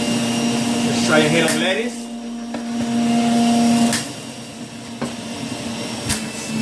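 A Breville compact juice extractor whirs loudly as it grinds ginger and a head of lettuce, its motor droning with shifting pitch and short knocks, while a person talks over it.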